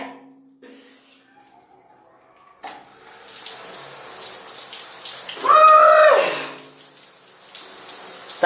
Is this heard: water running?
yes